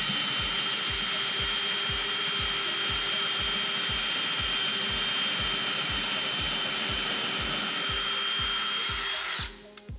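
Power drill boring into a wall stud to mount a floating shelf bracket, a loud steady whine with a fast regular pulsing rhythm that holds for the whole stretch and cuts off abruptly at the end, with no talking.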